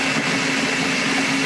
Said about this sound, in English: you can just use a blender